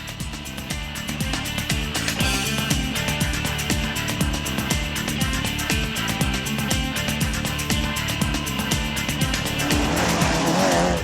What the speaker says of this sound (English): driving in his second rally in a Peugeot 205 GTI